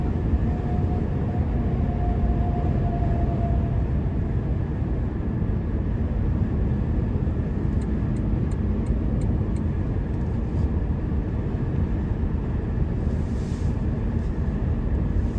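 2022 Toyota Tundra SR5 Double Cab with twin-turbo V6 accelerating, heard from inside as a loud steady low roar of engine and road noise, continuous with no talk.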